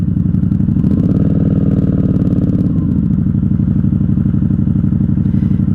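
A 1994 Honda Magna 750 VF750C motorcycle engine idles loudly and close, a dense rumbling throb that rises briefly in revs before settling back to a steady idle.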